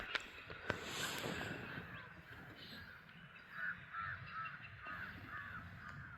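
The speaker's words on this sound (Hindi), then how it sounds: "कौवे बोल रहे हैं।" Several crows caw from mid-distance in a forest safari park in Rajaji National Park, harsh calls repeating in loose bursts over steady outdoor ambience and light vehicle rumble.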